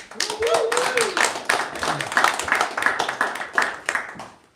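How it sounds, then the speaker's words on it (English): A crowd claps in a quick, steady patter while a voice talks over the applause. "Give him a round of applause."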